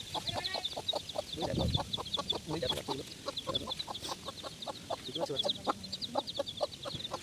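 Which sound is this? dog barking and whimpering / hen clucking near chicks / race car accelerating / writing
hen clucking near chicks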